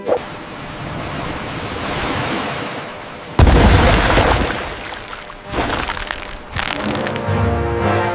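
A battleship shell explodes with a heavy, booming blast over a continuous surf-like roar, followed by a couple of further rumbling bursts and a lingering low rumble.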